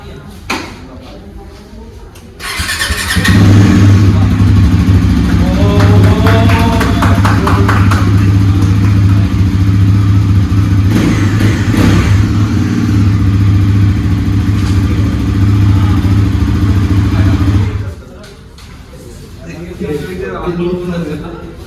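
A new Bajaj Pulsar NS400Z motorcycle fires up abruptly and holds a loud, steady engine rumble for about fifteen seconds before cutting off, with quieter background sounds before and after.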